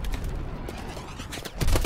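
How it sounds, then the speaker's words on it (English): Rapid automatic gunfire in Call of Duty: Advanced Warfare rattles continuously in a loud, dense stream with a heavier burst near the end, with no talking. "Where are they even shooting from?"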